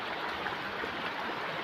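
River water flowing beside a small farm plot, a steady close rushing hiss with no breaks and no voices.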